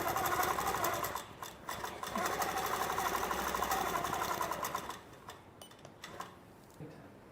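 A sewing machine fitted with a Wonderfoot 360 foot runs steadily while stitching a quilt, a loud continuous mechanical whir with rapid needle ticking that slows and stops near the end, leaving a few faint clicks.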